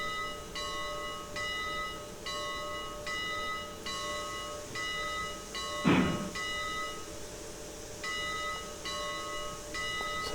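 A steam locomotive's bell rings steadily in the video game Railroads Online, regular clanging strikes roughly every second over a constant hissing, rumbling background, with a brief louder whoosh midway.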